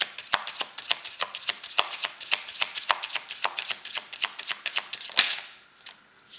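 Tarot cards being shuffled by hand, a rapid rhythmic run of crisp riffling slaps lasting several seconds before stopping abruptly, close and fairly loud.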